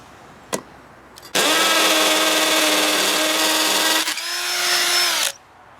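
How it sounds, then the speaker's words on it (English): A RIDGID Gen5X R8611503 hammer drill with a masonry bit roars loudly and steadily through hollow block for several seconds, dips briefly, then runs again before cutting off; a faint click precedes it. "let's see how fast it can drill through hollow block."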